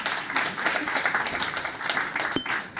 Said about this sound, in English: you can really clap louder